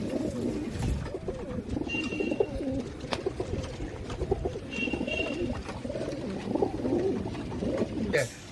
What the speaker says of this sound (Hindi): उनको तो मैं इतना करीब से कबूतरों को शो करवा रहा हूँ।